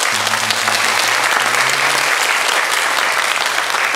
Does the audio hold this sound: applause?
yes